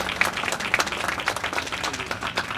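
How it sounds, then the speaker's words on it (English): An audience at a historical marker dedication ceremony in Lansing claps steadily, a dense, even patter of many hands at moderate distance with no voices over it. "Yes, give her applause, everybody."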